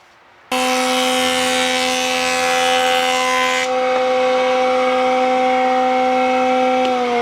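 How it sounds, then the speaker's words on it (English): A jointer planes glued-up wood boards, a loud continuous whining machine roar with a steady tonal hum and a brighter cutting hiss during the first few seconds of the pass. "So run these across the joiner a couple times"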